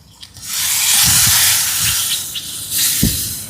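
Loud steady hiss and sizzle as fish goes into a pot of crab cooking in coconut milk, with a few soft clinks and bumps of the pot under the steam.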